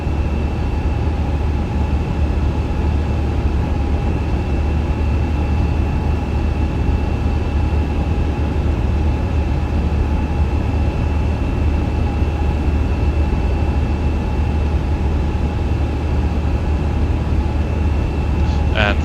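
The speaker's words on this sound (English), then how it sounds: "Aircraft to climb thrust now." Airbus A350 jet engines at climb thrust in a flight simulator, a loud, steady, unbroken roar with a low rumble and faint tonal whine throughout, heard alone with no pauses.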